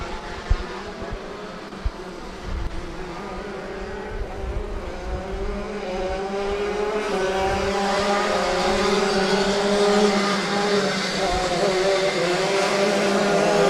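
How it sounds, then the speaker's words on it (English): A field of FZ 125 shifter karts roars off the green-flag start at Adams Motorsports Park, engines building into a loud, steady, rising racket as the pack accelerates. "we start our FZ 125 shifter heat here at Adams Motorsports Park"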